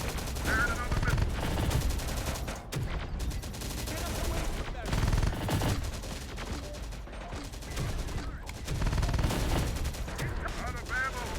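Gunfire in the video game Terminator: Dark Fate - Defiance sounds as dense bursts and rattling volleys, with heavier blasts mixed in. The shooting runs steadily and loudly while radio-style voices speak over it.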